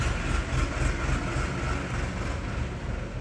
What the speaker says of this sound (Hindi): ट्रैक्टर निकल रहा है